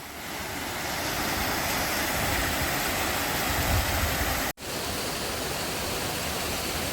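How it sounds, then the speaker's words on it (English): Big Creek Falls, a waterfall reached by hiking trail in Jackson County, Colorado, gives a steady, broad rushing roar of falling water, close and continuous, with one brief cut near the middle. "this is Big Creek Falls"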